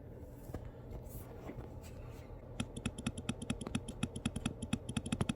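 Typing on an M2 MacBook Air keyboard: a rapid, fairly close run of light key clicks starts partway in and continues steadily over a soft background rustle.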